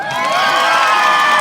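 Crowd at a pig race at the Santa Barbara Fair and Expo cheering and shouting loudly and steadily, with children's high voices mixed into a continuous roar that holds throughout.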